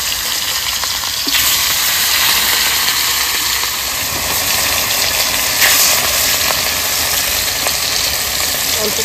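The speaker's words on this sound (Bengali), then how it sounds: "সর্ষের তেল দিয়ে দেবো, মাছগুলো ভেজে নেবো," Katla fish pieces fry in hot mustard oil in a kadai, giving a loud, constant sizzle and hiss that runs steadily throughout with small crackling spikes.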